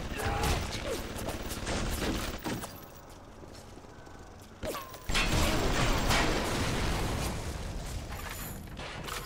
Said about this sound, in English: That was a rather large explosion.